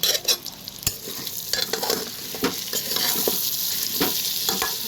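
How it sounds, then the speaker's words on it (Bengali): Spices sauté in a hot pan, with a steady oily sizzle broken by sharp scrapes and clicks of a stirring spatula against the metal, close and continuous. "আগে আমি মশলাগুলো দিয়ে ভালো করে কষে নেব।"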